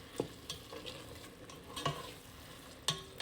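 A spoon scrapes and stirs through a sizzling steak marsala sauce in a hot pan, with a few distinct stirring knocks over a soft, continuous frying hiss, close up and with no talking.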